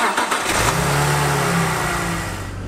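A BMW E46 engine, freshly fitted with new spark plugs and on a car with about 420,000 km, revs up close by. It rises to a strong roar and then settles back down over a few seconds, heard alone.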